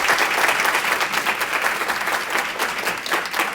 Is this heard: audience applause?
yes